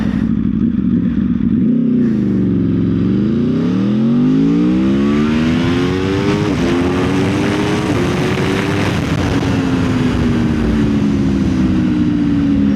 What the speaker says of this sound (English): Just twist the throttle more and it's hyper speed.